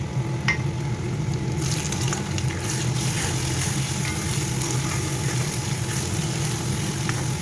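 Ginger garlic paste frying in a pan until lightly browned, for a soybean and potato curry: a loud, even, close sizzle with scattered light utensil taps throughout.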